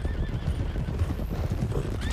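Horses in Red Dead Redemption 2 trot with steady, dense clip-clop hoofbeats while a stallion neighs and whinnies, close and loud throughout the short stretch of game sound.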